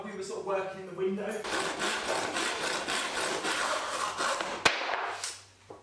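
A 50mm plywood strip is sawn to length, with steady rhythmic wood-cutting strokes running close and loud for several seconds after a brief stretch of voice, then stopping.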